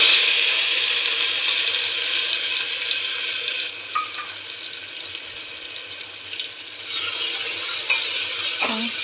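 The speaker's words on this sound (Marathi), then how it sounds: "चांगलं परतून घेऊया।" Ground masala paste sautés in oil with a bay leaf over a low flame for a black peas curry, giving a dense, constant sizzle with faint stirring scrapes throughout and no voices.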